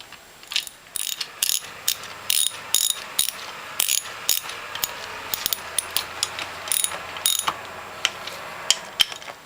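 A ratchet wrench clicks in quick, close bursts while bolts are tightened on a Norwalk juicer, the sharp ratcheting strokes repeating in an uneven rhythm with brief pauses.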